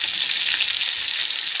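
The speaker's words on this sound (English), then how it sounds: "Finish frying the fish." Steady, loud hiss and crackle of sliced fish frying in hot oil in a frying pot, Jamaican style, close up and continuous with no voices.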